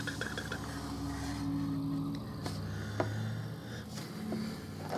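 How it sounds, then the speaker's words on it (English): Loud vehicle engine running outside, a steady low rumble with shifting droning tones that fills the whole stretch as continuous background noise. "Some of the very loud engine outside."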